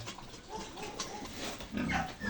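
Young pigs in a pen grunt and snuffle in short, close bursts over a few seconds, loudest near the end, with no speech.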